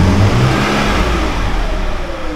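Car engine revving under acceleration, a steady mid-pitched engine roar filling the whole stretch, with no talking over it.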